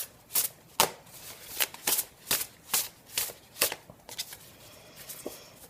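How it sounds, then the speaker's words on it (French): Tarot cards shuffled and drawn for a reading, giving a steady run of about a dozen crisp, papery riffling bursts close to the listener, a faint quieter shuffle at the end. "je vais juste prendre 2 cartes pour terminer ce tirage"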